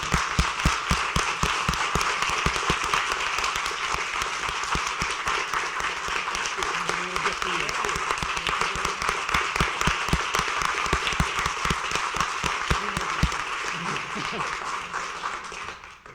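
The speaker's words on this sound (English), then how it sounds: "please stand and give the most riotous standing ovation possible for our chancellor" A university summit audience stands and gives a long, riotous ovation, dense rapid clapping filling the room steadily before tapering off at the end.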